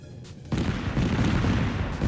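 Gunfire in the video game Totally Accurate Battlegrounds: a sudden loud burst of shots that starts abruptly and carries on as a dense rumbling volley to the end, with no voices.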